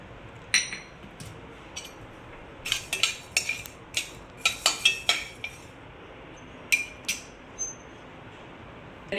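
Coriander seeds being dry-roasted in a pan, stirred with a metal spoon: scattered sharp clinks and scrapes come in uneven bursts over a quiet background.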